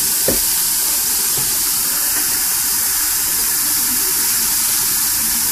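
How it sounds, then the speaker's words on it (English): Steady rush of water pouring from a tap, a continuous broadband hiss that stays even and fairly loud throughout. "I like to kind of rinse it out with the faucet water"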